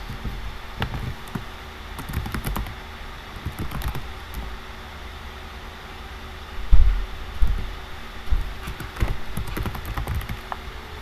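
Fingers tap on a computer keyboard in scattered, irregular bursts of soft clicks, some louder keystrokes standing out against a quiet room hum.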